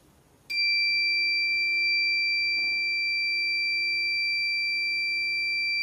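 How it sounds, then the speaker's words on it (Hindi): An LPG gas detector alarm on a homemade smart gadget sets off abruptly after a quiet moment, holding a loud, piercing, steady electronic tone close by, with no talking over it. "बस कुछ ही सेकंड में इसने डिटेक्ट कर लिया और यहाँ पे तुरंत अलार्म आने लगा। अलार्म भी काफ़ी ज़्यादा लाउड है"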